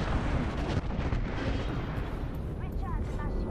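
Heavy, rumbling bombardment explosions from the Apex Legends video game roll on continuously, a dense, booming barrage with overlapping blasts and some faint higher whines layered over the top.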